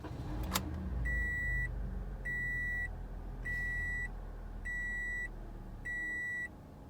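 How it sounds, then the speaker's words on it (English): A 2017 Toyota Corolla is switched on, and a quiet cabin fills with five evenly spaced electronic warning chimes over a faint low engine hum, preceded by a brief click. "go ahead and turn on the car"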